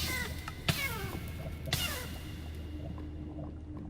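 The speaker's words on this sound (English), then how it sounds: "Turn off the cat hurt sound effect." A cat hurt sound effect from a Minecraft modpack game gives two short yowling meows about a second apart, over a steady low hum of game background.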